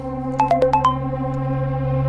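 A phone ringtone sounds during a video call, with five quick rising and falling tonal chirps in a short burst over a steady electronic hum and no talking.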